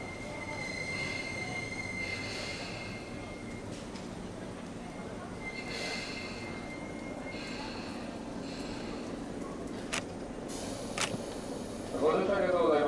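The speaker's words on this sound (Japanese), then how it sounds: "電車到着をいたします。" Metal wheels squeal as a Tobu line train pulls into Higashi-Mukojima station platform during a Sumida River fireworks special service, a steady screech with rumble running throughout and sharper squeals near the end, as platform announcements play.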